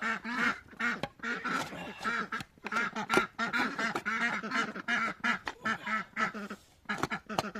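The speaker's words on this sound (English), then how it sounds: "Over the noisy ducks." Several ducks quack loudly and continuously nearby, their calls overlapping in a noisy, chattering chorus.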